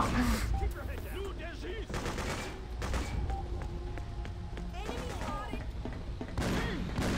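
Enemy gunfire in the video game Freedom Fighters: loud, dense bursts of rapid shots and fusillades, with a voice talking over the combat noise.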